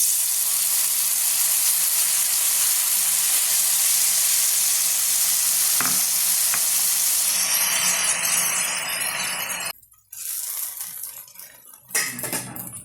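Fish omelette batter frying in hot coconut oil in a pan, a loud, close, continuous sizzle and hiss that later thins out and breaks off, with a few faint utensil clicks and no talk.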